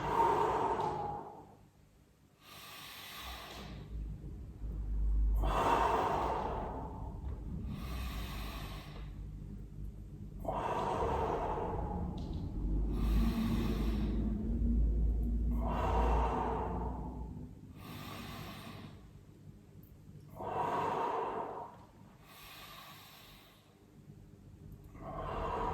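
Slow, deep breaths in and out during a Tibetan gym exercise, about eight or nine long airy inhales and exhales in a steady rhythm, close to the microphone with no speech.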